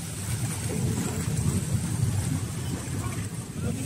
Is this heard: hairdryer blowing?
no